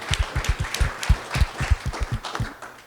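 Audience at a panel on the future of work claps for an arriving guest, a modest, fairly sparse round of applause with distinct individual claps at moderate distance.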